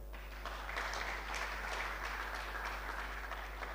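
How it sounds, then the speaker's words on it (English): A seminar audience at an alumni homecoming applauds its sponsors with a brief burst of steady clapping that is fairly faint and distant, over a low electrical hum, with no one speaking. "A hand of applause for them."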